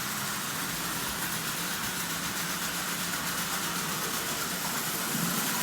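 A restored Marx toy diesel locomotive's small electric motor, fitted with a new gear and brush plate, runs continuously close up with an even, buzzing whir that holds steady throughout.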